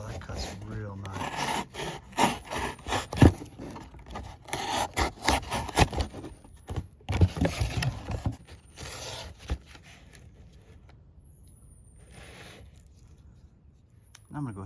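Kitchen knife sharpened on a whetstone in a VEVOR fixed-angle rotating sharpener kit: repeated gritty rubbing and scraping strokes in bursts, fairly close, fading to quieter scraping near the end.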